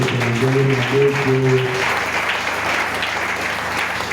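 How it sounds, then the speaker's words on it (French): A church congregation applauds loudly during a French-language evangelical service, a dense, steady wash of clapping that continues throughout, with a sung or sustained voice audible over it at the start. "Est-ce qu'on va applaudir très fort pour le Seigneur?"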